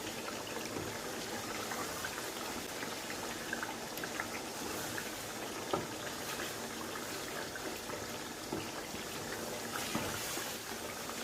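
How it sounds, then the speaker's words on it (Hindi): Chicken masala roasting in a pot for a chicken haandi, giving a steady low hiss and bubbling sizzle with faint crackles, continuous and even throughout with no talking. "तकरीबन 15 मिनट हो गए इसको भूनते हुए।"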